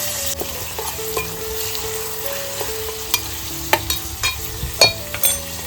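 Onion and curry leaves sizzle and fry in hot oil for tempering while a spoon stirs and clinks against the pan now and then, steady and close, with no talk.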